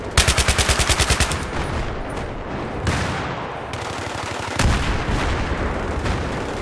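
Loud bursts of gunfire from the video game Battlefield 3: a rapid machine-gun rattle at the start, followed by heavier booming shots and sustained battle noise.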